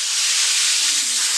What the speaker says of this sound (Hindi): और फिर हम उसके अंदर पानी शामिल कर देंगे